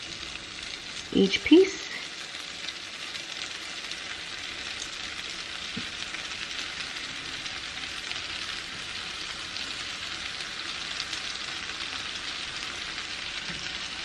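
Hawaiian roll French toast fries in a pan, giving a continuous, even sizzle throughout, with a brief spoken phrase near the start and a few soft knocks as pieces are turned.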